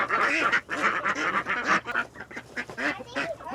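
Ducks being herded toward a pool quack continuously in a dense, close, loud chorus with overlapping calls and no pauses.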